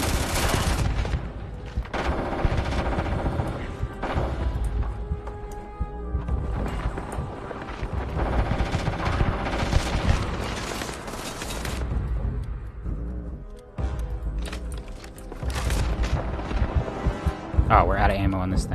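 Sustained weapon gunfire in Starfield, loud close bursts of rapid shots repeating with short gaps, with explosive thumps and a voice talking between volleys.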